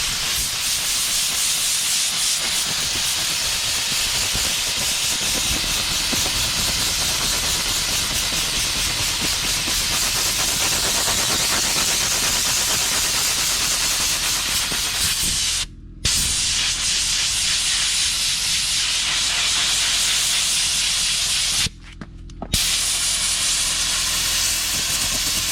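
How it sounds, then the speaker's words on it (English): Compressed air blasts loudly and continuously while blowing dust off car parts during show prep, a harsh broadband hiss that cuts out abruptly twice for short pauses before resuming. "when you have compressed air, you can blow it. It's going to be noisy"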